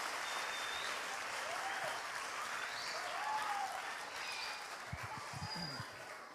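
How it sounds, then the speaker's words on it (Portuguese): Children visiting a city council chamber applaud a welcoming councillor, a steady patter of many small hands that fades slightly toward the end, with a few faint voices and a brief low thump near the close. "Vamos bater palmas para ele agora?"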